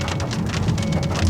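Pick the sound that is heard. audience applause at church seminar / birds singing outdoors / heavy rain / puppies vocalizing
heavy rain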